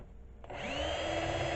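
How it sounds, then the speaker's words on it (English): Wire brush chucked in a power drill spins up after a brief click, settling into a steady whirring hum with a rising tone, close and fairly quiet, no talk. "put this whole assembly in my drill here"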